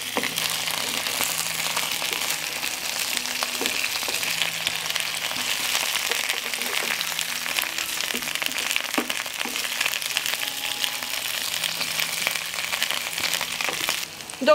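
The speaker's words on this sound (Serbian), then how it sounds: "Sada pražimo tikvice, mešajući na nižoj temperaturi dok ne dobiju fino braunkastu boju." Zucchini fries in a pan over low heat while being stirred, making a continuous dense crackling sizzle that stays fairly loud and even, with small stirring clicks inside it.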